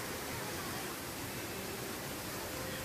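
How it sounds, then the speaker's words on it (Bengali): Bamni Falls in Purulia, water plunging from above, makes a steady, dense rushing hiss that fills the scene evenly from start to finish without a break. "ওই ওপর থেকে জলটা পড়ছে"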